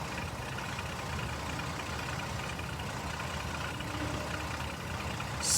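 Rough-running Jeep Liberty engine idling with an abnormal tapping, a dense continuous mechanical clatter heard up close at steady level throughout, without talk.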